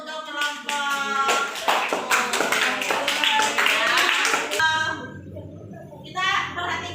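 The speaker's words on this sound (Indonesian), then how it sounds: "Tepuk tangan dulu untuk kelompok." Classroom of students clapping for a student group presenting on traditional houses, dress and foods, a dense burst of applause lasting several seconds with voices mixed in, then tapering off into quieter talk.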